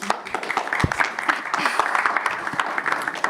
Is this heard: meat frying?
no